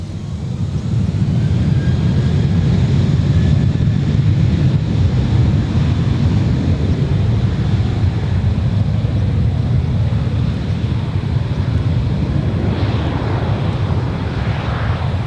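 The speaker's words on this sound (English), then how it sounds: "So that's QF686 heading off to Melbourne." Qantas flight QF686 airliner takes off from Adelaide Airport bound for Melbourne, heard as a broad, steady jet roar with wind noise that holds throughout, with no one speaking.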